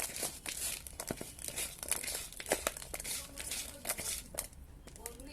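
Bare hands squeeze and toss chopped onion and green chilli with salt, producing close, soft, wet crinkling and crunching squishes in an irregular rhythm.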